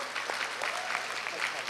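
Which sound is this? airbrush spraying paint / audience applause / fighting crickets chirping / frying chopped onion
audience applause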